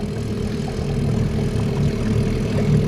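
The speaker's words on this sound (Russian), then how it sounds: "Моторчик Water Snake 30 ЛБС. Питается от 12-вольтового аккумулятора глубокого разряда." A Water Snake 30 lb electric trolling motor, powered by a 12-volt deep-cycle battery, drives a 2.5 m Botmaster Egoist Luxe boat on the Moksha River in Mordovia. It gives a steady, close, low hum with a faint whirr.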